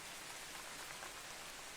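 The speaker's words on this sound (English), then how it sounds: "The rain is killing me. Why is it raining so hard?" A heavy downpour of rain, a steady dense hiss of falling water that stays even and unbroken throughout, faint and without any voices.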